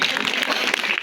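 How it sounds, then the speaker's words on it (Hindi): Audience applause during a youth festival results announcement in Haveli, a steady dense wash of clapping from a crowd throughout the short stretch, with no clear voice over it. "भरपूर तालियां इनके लिए जी।"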